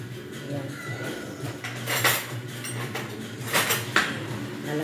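Cutlery scraping and tapping against bread and a dish while spreading filling on brown bread, a few brief clinks and scrapes close by, around the two and four second marks, over quiet room noise.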